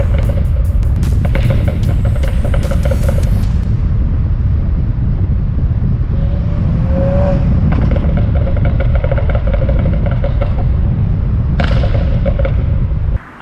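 A 2009 BMW 135i with the N54 engine drives hard, its loud rumbling exhaust roaring continuously up close, with crackles and pops as the revs rise and fall.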